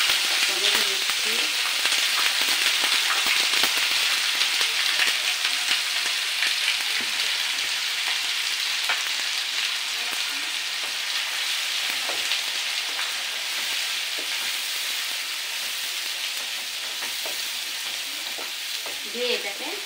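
Tomato with ginger, garlic and cumin frying in a pan, a loud, continuous close sizzle with crackling spatters and occasional stirring scrapes, no talking.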